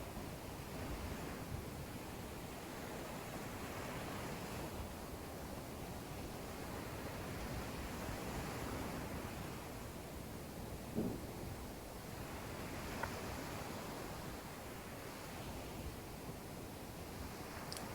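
Ocean waves washing onto the shore in a steady, continuous wash of surf that swells and recedes slowly, moderately loud and close, with no voices over it.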